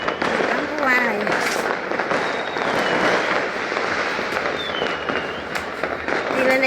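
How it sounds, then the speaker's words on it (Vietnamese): Fireworks set off at a home crackle and pop continuously in a dense barrage, loud and close, with a few whistling rockets rising through the din and voices talking underneath. "Bắn pháo hoa này."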